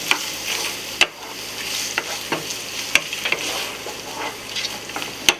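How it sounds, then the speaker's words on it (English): Finely chopped onion fries in hot oil in a pan with a steady close sizzle, broken every second or so by sharp clinks of a spoon stirring against the pan. "I'm going to add finely chopped onion. And now we're going to cook it till it gets nicely brown."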